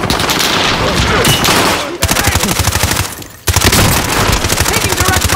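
Heavy automatic gunfire in the video game Warzone Caldera: dense rapid bursts of shots, loud and close, broken by two short pauses, with faint voices underneath.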